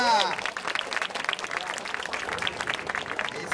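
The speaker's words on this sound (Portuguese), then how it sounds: "Palmas pra batalha!" Crowd clapping and cheering at a Brazilian freestyle rap battle, dense applause sustained across the clip with a voice briefly shouting over it at the start.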